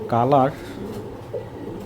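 A racing pigeon gives a short, throaty coo up close, one rising-and-falling phrase, followed by quiet room background and a faint soft sound afterward.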